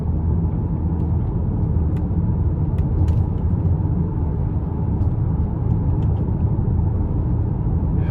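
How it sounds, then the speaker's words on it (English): A 2025 Lincoln Corsair Premiere with the 2.0T engine gets up to speed under light throttle in Conserve mode, giving a steady, close cabin rumble of engine and road noise. "Now here in the Conserve drive mode, still has quite a bit of pep to it, just getting up to speed"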